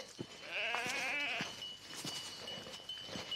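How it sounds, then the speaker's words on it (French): Black-eyed Quercy sheep bleating nearby, a few wavering, quavering calls in quick succession, fairly faint with light rustling between them. "on appelle ça les moutons lunettes noires du Quercy"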